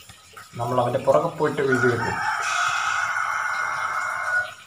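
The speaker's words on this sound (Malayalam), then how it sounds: "എൻ്റെ പൊന്നു കോഴി, കോഴിയൊക്കെ ഭയങ്കര ഒച്ചയാട്ടോ." A rooster crows close and loud in a long, drawn-out call, following a few seconds of people talking nearby.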